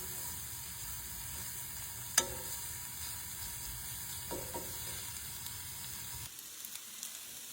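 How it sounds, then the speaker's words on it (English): Salmon patties frying in a pan, a steady close sizzle running throughout with a sharp clink partway and a few soft knocks, quieter toward the end, and no talking. "I won't keep you the whole time that these are frying up"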